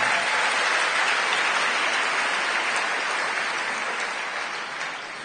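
A church congregation bursts into dense, sustained applause during a worship service, steady and fairly loud throughout before easing off slightly at the end.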